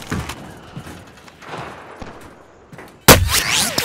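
Gunfire in Call of Duty: Modern Warfare arrives as scattered shots with faint distant reports, then a sudden loud close blast followed by ringing debris.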